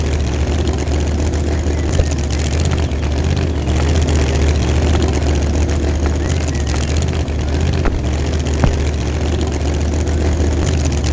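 Airplane engine idling in a video game, a steady, loud, low droning hum that holds unchanged throughout with no clear speech over it.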